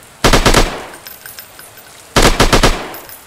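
Two loud, short bursts of machine gun fire from a sniper shooting video game, each a quick rattling volley separated by a brief pause, with no talking.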